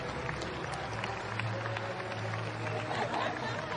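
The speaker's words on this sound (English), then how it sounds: "The crowd appreciating some excellent cricket by both sides" A stadium crowd at a women's T20 cricket match between India and Australia applauds in a steady, distant wash of clapping, with murmured chatter mixed in.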